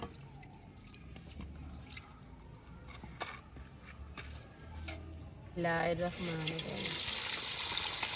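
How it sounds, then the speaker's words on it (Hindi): Raw chicken being rinsed under running water, splashing and dripping steadily, then a louder gush as the flow strengthens toward the end; a voice speaks faintly underneath. "देखें तो अच्छे तरीके से धो दिया है"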